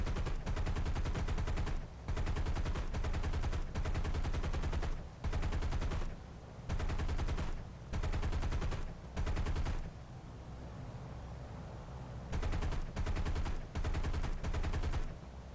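Several .50 caliber machine guns on a B-24 bomber in a video game fire in long, loud, steady bursts, with short pauses between volleys and a quieter stretch of engine drone before the firing resumes.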